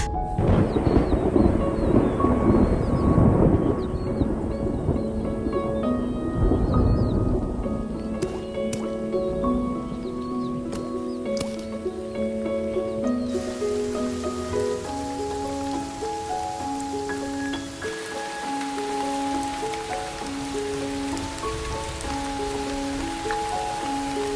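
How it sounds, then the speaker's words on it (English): Thunderstorm rain sweeping across the African plains after a long drought: a steady wash of rain with rumbling thunder, strongest and most turbulent at first, then settling into a constant hiss beneath a prominent melodic music track. "After months of drought and struggle, the rains finally arrive"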